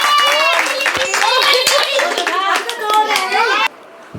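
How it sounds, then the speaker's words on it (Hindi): Children clap together for a tongue-twister contestant, a dense, steady patter of hands mixed with excited kids' voices talking over it, then cutting off abruptly near the end. "एक बार सभी उनके लिए तालियां बजाई जाएं"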